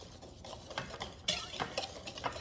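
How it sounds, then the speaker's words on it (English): A whisk clinks and scrapes around a bowl during home baking, a faint series of irregular light metallic taps and swishes lasting a couple of seconds. "Do I know how to whisk right?"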